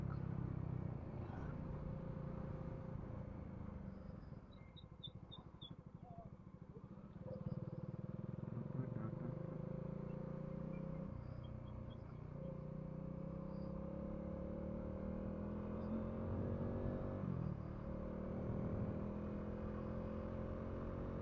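A Bajaj Dominar 400 motorcycle fitted with a saddle bag rides along the road from Mumbai to Murud, its engine holding a steady droning hum with wind rush throughout, briefly easing off before picking back up.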